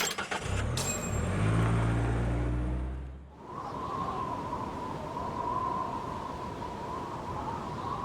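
A taxi in the video game Judgment, its engine thrumming with a low rumble that builds and then shifts into a steadier, brighter hum as the car pulls away, heard alone with no talking.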